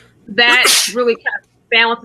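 A single sharp, loud sneeze bursts out close to the microphone in the middle of a person's talk, with speech before and after it.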